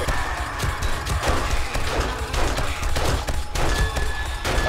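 Bursts of gunfire strike a turret in 7 Days to Die, a dense, sustained barrage of sharp cracks and impacts with clanging hits running for several seconds, close and loud.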